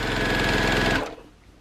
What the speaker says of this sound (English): So I'm just sewing this